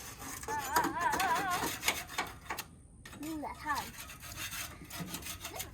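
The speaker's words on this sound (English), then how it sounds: "two little helpers scraping all the spray foam that we got all over" Two children scrape spray foam off the surface of a school bus being converted, making repeated rough rubbing and scratching strokes up close, with brief faint voices and squeaky sounds mixed in.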